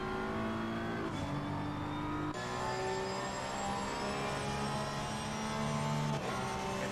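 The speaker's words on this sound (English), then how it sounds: "the Porsche makes so much better noises than the BMW" A Porsche race car engine at a Snetterton circuit race roars steadily and loudly throughout, its tone shifting with gear and throttle changes, with no talk over it.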